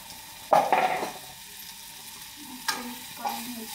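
Turmeric and red chili powder stirred into a hot frying pan, with a sharp scrape and sizzle burst near the start, then quieter scraping strokes at a steady pace, close and moderately loud.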